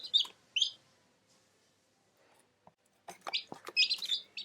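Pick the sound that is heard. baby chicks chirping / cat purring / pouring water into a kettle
baby chicks chirping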